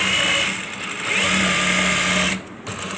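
A sewing machine runs close and loud, stitching a men's shalwar with a continuous high motor whine and needle hum that dips briefly near the end.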